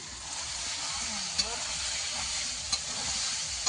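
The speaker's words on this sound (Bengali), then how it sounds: "মাংস কষানো চলছে, মা এখানে মাংস কষানো করছে।" Meat being stir-fried (kosha) in a pan, with a steady sizzle and soft stirring scrapes and a few sharp clinks, while people talk in the background.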